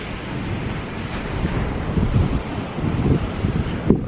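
Wind blowing on a rainy beach while fishing, a steady close rush of wind noise buffeting the microphone with surf washing underneath, no talk.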